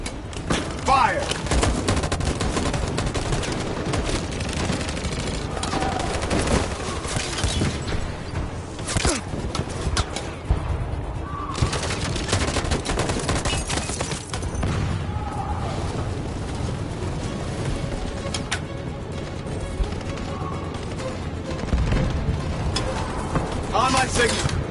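A gunfire volley on command erupts into a sustained, dense fusillade of overlapping shots and bursts, loud and continuous. Shouted voices cut through the barrage.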